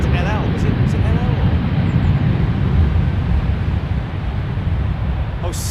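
A Saudi Boeing Dreamliner arrives at London Heathrow with a broad, steady airliner engine rumble that holds loud throughout, and voices talk over it.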